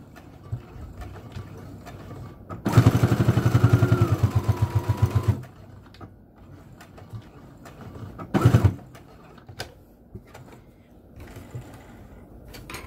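A sewing machine backstitching fabric for a microwavable bowl holder, one loud rapid burst of stitching lasting about three seconds, then a short second burst, with quiet handling noise between.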